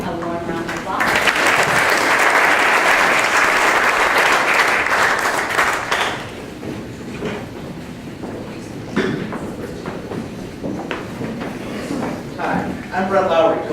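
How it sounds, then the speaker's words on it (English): Warm applause from an audience at a 1 Million Cups startup pitch event, loud and sustained for about five seconds, then fading into scattered claps and room noise. "So please give him a warm round of applause"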